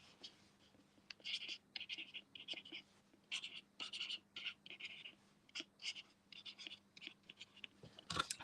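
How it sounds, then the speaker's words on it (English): Pen strokes scratching across paper as measurements for 3mm macrame cord are written down, a series of short bursts with brief pauses, close and fairly quiet, with no talking. "if I write down so it's on the screen"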